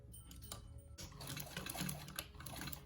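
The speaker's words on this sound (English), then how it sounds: "Now we're going to stitch across the top at 3/8 seam allowance." A sewing machine runs a seam across the top of a pouch at 3/8 inch allowance, a steady, fast mechanical whir and needle patter after a short start, close and alone.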